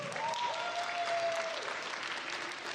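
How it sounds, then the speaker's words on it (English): Applause from an audience at a Rubik's Cube speedcubing championship, a steady broadband wash of many hands clapping for close to three seconds, with a faint tonal whistle-like line drifting through the first half. "Let's give a round of applause for those people."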